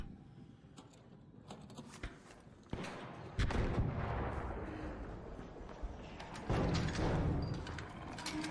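Grenade tube blasts and gunfire ring out in the video game ARC Raiders: scattered distant shots give way to heavy, booming explosions with rumbling tails.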